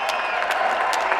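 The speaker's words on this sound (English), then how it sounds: "about one more round of applause for these two combatants here tonight" A crowd at a Front Street Fights 17 fight night applauds for two fighters, a steady, dense wash of clapping filling a short moment.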